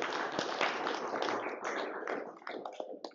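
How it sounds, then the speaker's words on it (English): Audience applause at a formal meeting in Warsaw, a steady dense wash of clapping at moderate volume with a few sharper individual claps near the end, no talking over it. "Applause."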